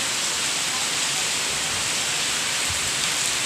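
Heavy rain pours down outside, a dense, steady hiss that stays loud and constant with no pauses.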